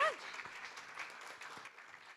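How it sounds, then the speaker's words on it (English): Audience applause at a conference paper session, a steady wash of clapping from a seated crowd that starts strong and gradually thins out, with faint voices underneath. "let's give her a nice round of applause"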